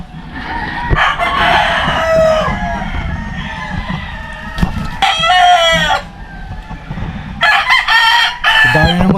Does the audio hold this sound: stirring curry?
no